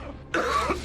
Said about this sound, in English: You heard the first cough.